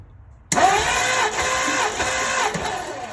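A Ford Thunderbird engine cranks over for a compression test, the starter whirring suddenly to life and chugging in a steady rapid rhythm, close and loud for a few seconds.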